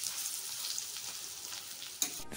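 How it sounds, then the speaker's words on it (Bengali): Bora fritters frying in a pan, a steady close hiss of bubbling oil with no talk and a brief clatter near the end. "এই দেখো বন্ধুরা, মা বড়া ছেড়ে দিয়েছে, এখন বড়া ভাজা হোক"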